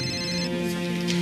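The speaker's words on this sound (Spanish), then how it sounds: "Está sonando un celular" A mobile phone rings with a steady melodic electronic tone, clear and fairly close, with no talking over it.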